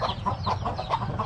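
A mother hen clucks near her chicks in a short run of repeated, close, rhythmic clucks with no talk.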